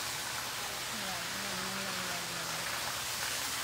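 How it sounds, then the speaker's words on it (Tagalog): Steady rain falls on a rest day, a constant broadband hiss with no pause, while a faint voice murmurs under it. "Ulan eh."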